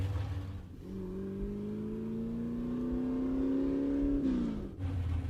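A 1956 Chevy fitted with headers revs hard while driving, its engine note climbing steadily for several seconds before dropping off, loud and close throughout.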